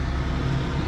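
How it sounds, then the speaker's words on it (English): A tractor cutting grass nearby gives a steady, dense engine drone with no breaks, loud and continuous throughout the short moment. "there's actually a tractor over there cutting the grass"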